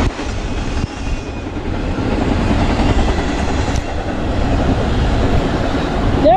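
A long freight train hauled by two engines rolls past steadily in the rain, a loud, continuous rumble and rail noise filling the whole stretch without pause.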